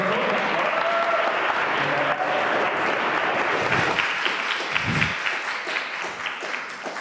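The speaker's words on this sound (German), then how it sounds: "Mit dem tosenden Applaus natürlich." Thunderous applause from a church audience greets a man and his wife coming onto the stage, a dense, sustained wall of clapping with faint voices mixed in, easing slightly toward the end.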